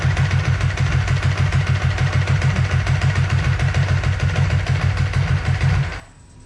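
A Ducati 749/999 motorcycle engine idles roughly up close, a loud, pulsing low thump with an uneven beat that runs steadily before cutting off near the end.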